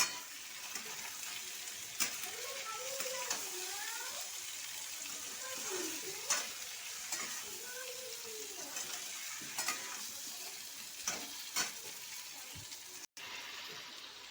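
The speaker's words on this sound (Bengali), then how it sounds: "পটল ভাজা পটল আর আলুটা আমি দিয়ে দিলাম এর মধ্যে" Fried pointed gourd and potato stirred into a sizzling pan, a steady frying hiss with repeated spoon scrapes and knocks, close, with faint background voices at times.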